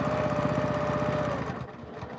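A sewing machine runs steadily and fairly loudly, stitching quilt binding a quarter inch from the edge, its rapid motor whir holding for most of the moment before easing off near the end.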